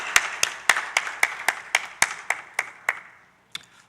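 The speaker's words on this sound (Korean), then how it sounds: "함께 하나님께 영광의 박수 올려드리겠습니다." A church congregation claps together during a worship service, about a dozen sharp, evenly spaced claps that fade out, ending with one faint final clap.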